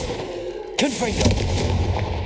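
A Confringo fire spell blasts in Hogwarts Legacy: a sudden loud burst with a crackling, booming tail that rolls on over a dense background of game ambience.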